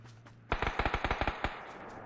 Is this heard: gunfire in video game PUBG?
yes